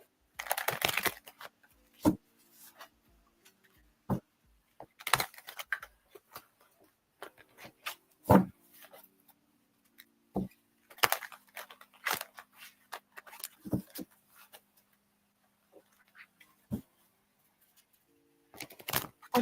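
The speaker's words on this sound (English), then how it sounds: "when you're ready, let me know and I will stop shuffling" Tarot cards are shuffled during a live reading, giving soft irregular riffles, snaps and taps that are scattered and fairly faint, with quiet gaps between them and no voices.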